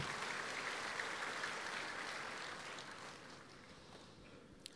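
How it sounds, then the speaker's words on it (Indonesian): A church audience at an evangelistic service applauds in a steady, dense wash of clapping that is fairly faint and distant, slowly thinning toward the end. "Jadi kita boleh tepuk tangan mulai ya"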